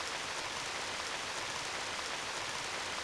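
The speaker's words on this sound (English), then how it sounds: "It started to rain." Steady rain pours in the video game Radiant Historia, an even hiss of falling water that fills the whole stretch at a soft, constant level with no other sounds.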